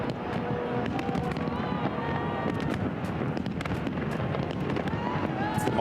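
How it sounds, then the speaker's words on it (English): Fireworks over the Thames in London during millennium celebrations crackle and pop continuously in a dense, loud barrage, with a voice talking over them. "Lasers and fireworks."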